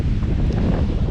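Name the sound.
strong wind blowing from the north at the coast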